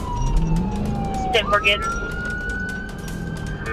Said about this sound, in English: as officers activated lights and sirens